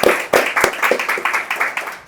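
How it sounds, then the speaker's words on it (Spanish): A small group claps together in a room after a talk, a close, brisk run of hand claps that fades out within a couple of seconds, with no talking over it. "Equipo, por favor, denle un aplauso."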